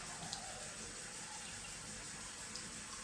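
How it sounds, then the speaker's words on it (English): Tap water runs into a container in a steady, even rushing stream, close and continuous for the whole stretch, with no voices. "I'm just going to fill up next with tap water."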